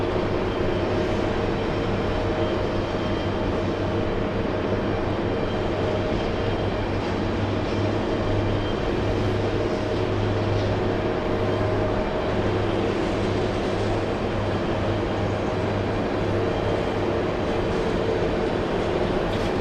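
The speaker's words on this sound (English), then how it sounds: "Next arrival is a small one. It's Alaska Airlines, Alaska 24, flying in from San Diego, California." An Alaska Airlines Boeing 737 arriving at JFK airport gives off a loud, sustained jet roar and whine that holds steady for the whole stretch, with no voices.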